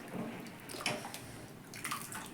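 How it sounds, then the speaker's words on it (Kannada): Water is poured into a pot of lentil sambar being cooked, a faint, uneven splashing and trickling with soft drips, close by and quiet. "ನಮಗೆ ನೀರು ಎಷ್ಟು ಬೇಕು ಕ್ವಾಂಟಿಟಿ ಅದು ನೋಡ್ಕೊಂಡು ಹಾಕ್ಕೊಳ್ಳಿ"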